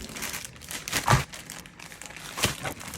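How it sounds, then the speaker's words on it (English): A plastic bag crinkles as a prime rib roast is placed inside, with a few short, soft rustling bursts close by in a quiet room. "let's put this big boy in a plastic"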